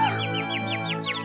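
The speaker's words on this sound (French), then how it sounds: "Tu es le petit rossignol que j'ai soigné l'hiver dernier." A bird sings a rapid run of about seven bright, swooping chirps, evenly spaced, over a steady sustained musical drone.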